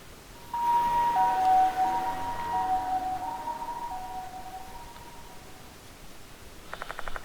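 Ambulance siren in the video game Spirit Hunter: Death Mark II, a clear wailing tone rising and falling for several seconds before fading, heard alone without talk.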